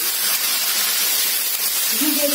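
Chicken pieces fry in a mix of oil and ghee with a continuous close hiss and sizzle, and a voice briefly rises near the end.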